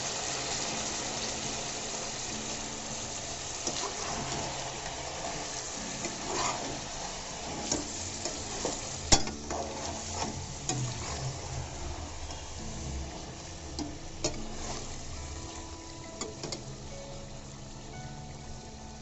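Lemon pepper chicken frying in a pan with chili and green coriander added gives a continuous sizzle, while scattered stirring clicks and scrapes sound against the pan.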